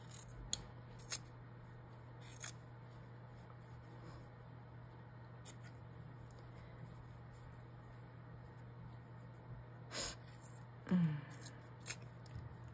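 Scissors trimming fabric strips for ruffles, a few soft scattered snips spread across a quiet room with a steady low hum underneath.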